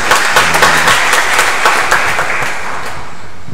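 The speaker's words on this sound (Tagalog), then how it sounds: "Palakpakan po natin ang ating mahal na patron. Siyempre, palakpakan po natin ang Diyos na buhay." Congregation at a fiesta mass for the patron saint San Antonio de Padua claps loudly, with lively applause that thins out toward the end.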